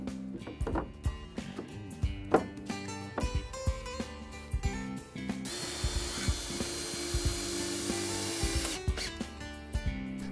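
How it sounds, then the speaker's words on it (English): A jigsaw cuts scrap from southern pine boards for a potting table, with clunks and handling knocks before a continuous buzzing cut that runs for several seconds, close and alone. "Use a jigsaw to cut out the scrap and fit the boards into place."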